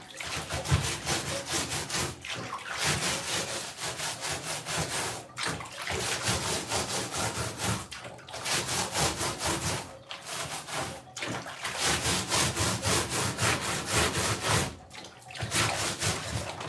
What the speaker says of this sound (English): I'm scrubbing this mat, guys.